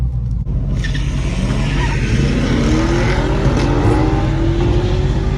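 A Jeep Wrangler Rubicon 392 and a Camaro in a drag race, engines roaring loudly as they accelerate, with rising tones sweeping upward through the run.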